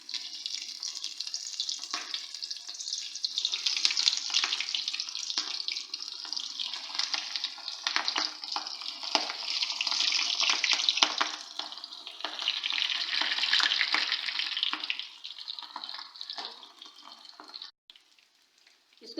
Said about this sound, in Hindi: जब हमारा अच्छी तरह गर्म हो चुका है तो अब मैं इसमें डालूंगी ड्रम स्टिक